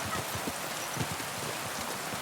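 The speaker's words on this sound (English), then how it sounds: "Comfy rain noises," Rain falls in the medieval video game Kingdom Come Deliverance 2 as a steady, hissing wash with faint low clops underneath, fairly soft and without any talking.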